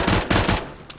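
Automatic rifle fire in the game CS:GO, a short burst of rapid shots lasting about half a second, loud and close, then a faint single report.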